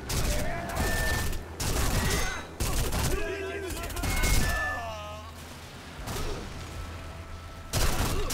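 Gunfire in Sniper Elite V2 Remastered crackles in repeated bursts of sharp shots, with brief pauses between volleys and some mechanical clatter, fairly close and loud.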